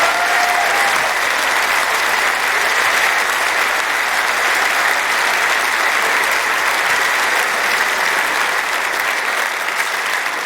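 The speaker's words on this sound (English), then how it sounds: "Just give them a big hand of applause." A concert audience at a rock'n'roll show gives a big, sustained round of applause, a dense wash of clapping from a large crowd that stays full and loud throughout, with faint crowd murmur mixed in.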